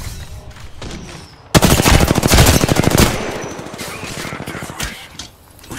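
Devotion machine gun in Apex Legends fires a long, rapid automatic burst that starts abruptly, loud and close, then tapers into scattered distant shots and game noise.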